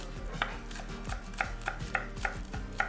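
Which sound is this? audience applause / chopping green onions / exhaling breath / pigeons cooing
chopping green onions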